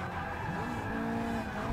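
A race car in Forza Motorsport 6 brakes hard on a track, tires squealing and skidding over a steady engine drone for a brief, continuous stretch.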